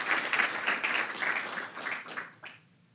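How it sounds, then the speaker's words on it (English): An audience at a stem cell prize award ceremony applauds in a dense burst of clapping that fades out over about three seconds. "I believe Gerlinda, we should give her a big applause for all of her great support and work"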